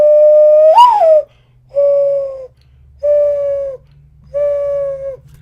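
A person whistles an imitation of a mourning dove's call: four clear, steady hooting notes evenly spaced, the first rising and wavering, loud and close with no other sound.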